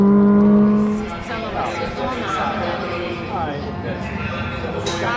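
A race car at full race pace, its engine note rising and falling through gear changes and revving hard, with a driver talking over the continuous mechanical roar.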